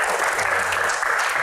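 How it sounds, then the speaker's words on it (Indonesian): Audience applause for a performer on stage, a dense, steady burst of clapping from a crowd that fills the whole short moment at even loudness. "tepuk tangan dong buat Mbak Anggun"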